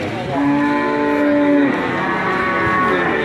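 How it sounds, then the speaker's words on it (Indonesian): A female cow at a cattle market gives one long, loud, close moo, followed by quieter lowing and livestock murmur in the background. "Sapi betina."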